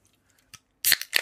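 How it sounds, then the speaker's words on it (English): A beer can opens with a short sharp crack followed by a quick fizzing hiss, two close bursts after near silence, close and clear. "That's the sound of my beer opening."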